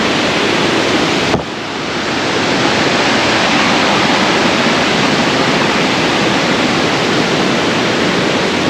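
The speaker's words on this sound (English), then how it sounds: "it's basically a roadside waterfall" Steady, dense rush of a roadside waterfall in the Poconos, loud and continuous throughout, with a brief dip early on before the roar settles back in.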